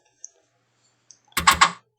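Commodore Amiga floppy drive clicking as it checks for a disk: a quick burst of three or four sharp mechanical clicks, close and fairly loud, preceded by a couple of faint ticks.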